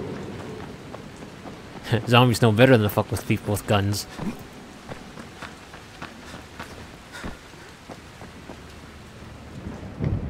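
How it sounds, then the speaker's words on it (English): Steady rain hisses throughout as thunder rumbles low in the video game Dying Light, with someone talking over the storm and occasional soft thuds. "I'm not gonna make it home in the rain."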